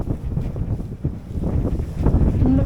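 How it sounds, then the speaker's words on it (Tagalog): Strong wind in rural Alaska buffets the microphone in heavy, gusting rumbles, loud and close, with no voices. "Ang lakas ng hangin."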